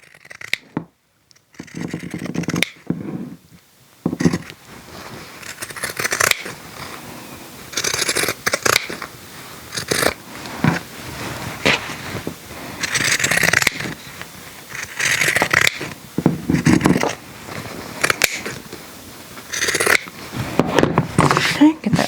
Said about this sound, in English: just take your alligator scissors and go straight down the line